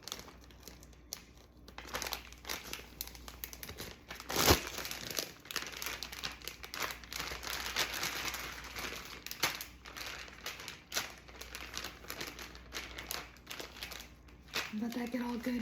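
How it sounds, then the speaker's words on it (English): Food being shaken inside a plastic baggie, a steady run of crinkling, rustling plastic over about fifteen seconds, loud and close, with a few sharper crunches and a voice talking faintly underneath. "I put it in a baggie so that I can kind of like shake it up."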